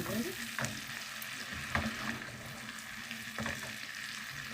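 Lentils frying in a dry pan with no oil, seasoned with pepper, give a steady close sizzle with a few sharper crackles and stirring scrapes, no voices over it.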